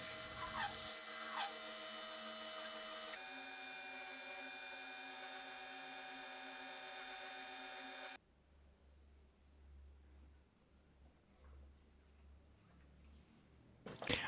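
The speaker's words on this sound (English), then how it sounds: "Sanding at 100 grit." Steady whirring hum of a spinning lathe sanding resin and olive wood at 100 grit, with a faint abrasive rasp, shifting pitch midway, then dropping to a lower rumble with scratchy texture.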